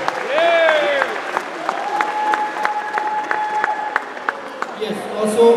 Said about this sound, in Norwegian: Stor applaus til dere